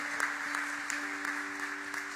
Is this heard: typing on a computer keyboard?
no